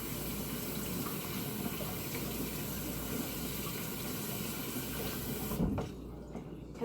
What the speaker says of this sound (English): I got to clean off my spatula